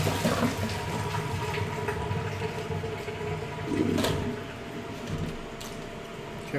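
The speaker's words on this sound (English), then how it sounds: "I'm going to pour it right into my strainer to catch it" Boiling water and cooked greens pour into a strainer in a kitchen, a steady loud splashing gush that surges briefly near the end.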